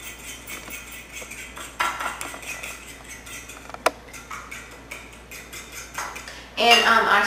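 A fork beating eggs and milk in a plate, rapid clinking scrapes against the dish in a quick, uneven rhythm, close and fairly loud, with a sharper tap midway and a brief burst near the end.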